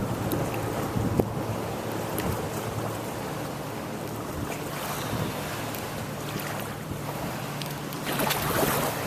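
A 1957 23-foot Lyman runabout powers through choppy water, its steady engine drone mixed with splashing waves and heavy wind buffeting the microphone throughout.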